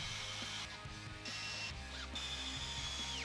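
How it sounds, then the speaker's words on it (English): A drill drives screws through a table leg into a table top, giving short whirring, ratcheting bursts close by, with brief pauses between them. "Then, insert your screws."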